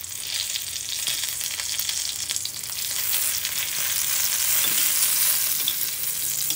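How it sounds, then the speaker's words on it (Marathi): Garlic, ginger and green chilli fry in hot oil for a cauliflower and pea curry, giving a steady, loud, close sizzle that swells slightly toward the end, with no talking. "आता हे छान असं फ्राय झालेलं आहे बघा, लसूण फ्राय झालेला आहे"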